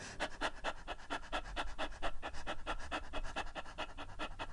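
A voice imitates a small dog panting as a breathing exercise in a singing lesson: quick, even, rhythmic huffs of breath, close and steady throughout, with no talking.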